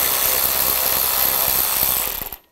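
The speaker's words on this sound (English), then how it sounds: "disconnect that with a 10 millimeter socket" A ratchet with a 10 mm socket loosens the nut on a ride height sensor of a 2006–2010 BMW 550i, a fast dense clicking burr heard up close, steady for about two seconds before it stops.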